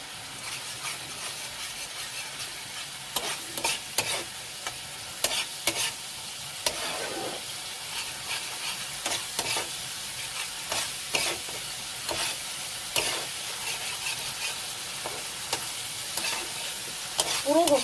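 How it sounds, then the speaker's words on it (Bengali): Rajma masala frying in hot oil over a high flame, a steady sizzle broken by repeated scraping stir strokes of a spoon in the pan, close and moderately loud. "আর একটু ভাজা ভাজা হোক।"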